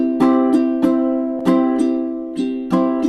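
Ukulele strumming open chords without muted chucks, bright, close strokes that let each chord ring into the next in an even rhythm.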